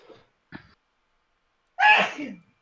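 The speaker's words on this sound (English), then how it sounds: "sneezing very loudly" One loud, explosive sneeze close up, preceded by a couple of faint breaths or small sounds in otherwise quiet surroundings.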